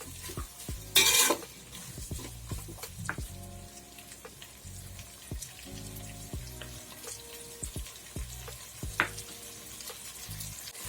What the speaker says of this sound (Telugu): ఒక 2 మినిట్స్ ఫ్రై చేసుకోవాలి.